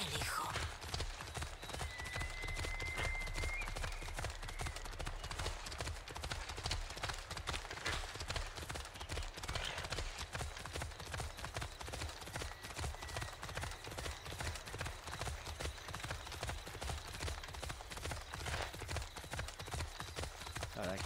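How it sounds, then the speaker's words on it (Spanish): Horse hooves clip-clop steadily in a fast, rhythmic stream in Assassin's Creed Odyssey's Atlantis Elysian Fields, faint and continuous beneath someone talking over it. "Tengo que llevarle este caballo a Adonis o al mozo de cuadra"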